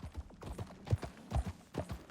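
A horse's hooves clip-clop at a steady walking rhythm in the video game Red Dead Redemption 2, moderately close and uneven in loudness, with no talk over them.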